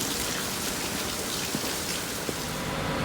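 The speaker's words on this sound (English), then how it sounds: "It's pouring rain right now." Heavy rain pouring down, a dense steady hiss with scattered louder drops, loud and close throughout with no other sounds.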